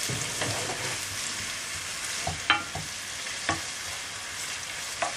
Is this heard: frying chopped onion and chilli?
yes